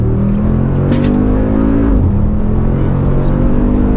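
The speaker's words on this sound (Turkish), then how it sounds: "Hemen bir downshift yapalım şurada bir. Bir gürleme başlasın. Egzoz valflerimiz açıldı dediğim gibi, spor modu alır almaz." A Mercedes-Benz G63 AMG V8 in sport mode with open exhaust valves rumbles loudly and steadily up close, its engine note shifting pitch around a downshift partway through.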